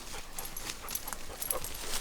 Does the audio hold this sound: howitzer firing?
no